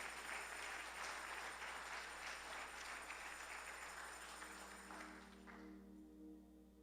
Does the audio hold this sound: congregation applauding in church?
yes